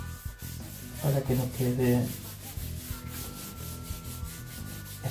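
A cloth rubs linseed oil off wooden surfaces on a model airplane, giving a soft, close scrubbing swish in a few bursts, with a voice speaking briefly.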